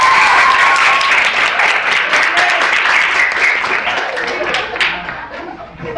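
A theater audience at a comedy stage play of Florante at Laura claps loudly and steadily for several seconds, the applause thinning slightly toward the end, with faint laughter mixed in.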